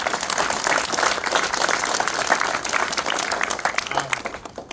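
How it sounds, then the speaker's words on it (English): An audience at a Vietnam veterans' memorial and museum grand reopening breaks into sustained applause, a dense, loud wash of clapping that holds steady for several seconds before beginning to thin out. "Let's give them a round of applause."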